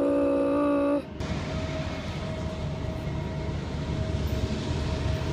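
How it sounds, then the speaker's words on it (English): A train rolls past nearby as a steady, loud rumble with a faint sustained tone, after a brief burst of music at the start; no talking. "the train is coming."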